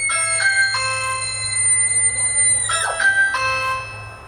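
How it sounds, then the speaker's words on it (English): A plugged-in Ring Chime plays a spooky Halloween doorbell tone, two bright multi-note electronic bell chimes a couple of seconds apart, clear and close indoors, with a faint hum beneath. "so now we've set our Ring chime with our Ring doorbell inside of the settings. We've set the spooky tone."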